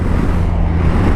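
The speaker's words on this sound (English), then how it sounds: "1254cc boxer motor." BMW R1250RT police motorcycle with a 1254cc boxer engine running, a loud, steady low engine drone close by, constant throughout with no pauses.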